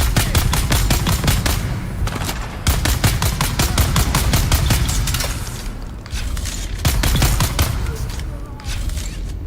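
Gunfire in the Dune Awakening video game: dense, rapid bursts of automatic shots rattle loudly and close, nearly continuous across the stretch, with occasional heavier booms that suggest a grenade blast.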